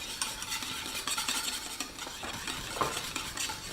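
A spoon scrapes and swirls steadily, stirring chocolate into a hot saucepan for chocolate flan, soft clinks and a faint sizzle underneath, close by and fairly quiet.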